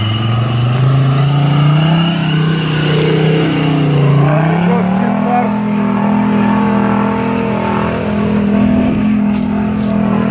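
Off-road vehicle with a Mercedes engine revving hard and accelerating at night, a loud sustained engine roar rising and falling in pitch, with voices audible underneath.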